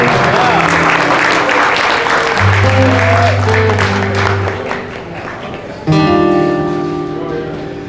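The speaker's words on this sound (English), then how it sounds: "a nice warm round of applause for Yuko." A warm round of applause from an audience at the Pono Hawaiian Grill, mixed with Hawaiian music and a voice, swelling briefly then tapering off toward the end.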